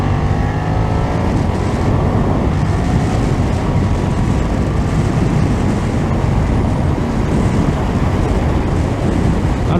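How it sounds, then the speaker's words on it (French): BMW F900R motorcycle, 2020 A2 version with stock exhaust, engine droning steadily at speed while riding, loud and continuous with wind rush mixed in, no speech over it. "Et même avec le pot d'échappement d'origine, ça chante bien."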